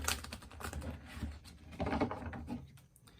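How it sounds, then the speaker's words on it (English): Tarot cards being shuffled by hand in a quiet room, a close, busy rustle of riffled and tapped cards with quick clicking flutters, soft overall and without speech. "One more shuffle this way."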